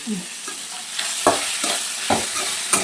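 A simple South Indian tempering sizzles in a hot pan, a steady frying hiss broken by several sharp stirring scrapes and pops at close range, with no talking.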